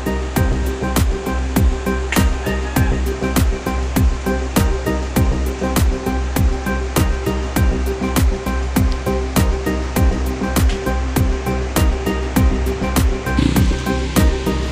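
Floodwater rushes along the swollen Apa-Apa River in Jabonga, Agusan del Norte, a loud, continuous roar of churning water with a steady broadband wash and sharp repeated clicks, with no talking.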